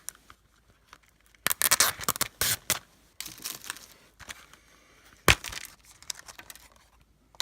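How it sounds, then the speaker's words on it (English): Sticker being peeled off a Blu-ray case during an unboxing, heard as a string of close, crisp tearing and crinkling bursts separated by short pauses, with one sharp snap near the end. "Make sure to take the sticker all the way off."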